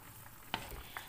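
Dry chili stirred into humba in a pan, soft frying sizzle under two quick scrapes of the spoon against the pan, close and faint, no talking.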